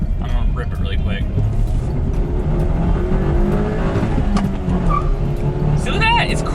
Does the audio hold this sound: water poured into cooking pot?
no